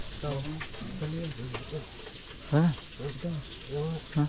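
Food sizzles and crackles in a pan under a layer of nearby conversation.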